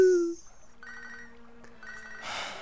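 In Pokémon SoulSilver, the Pokégear phone plays a short electronic chime, followed by a simple synthesized ringing tune, then a burst of noise at the end.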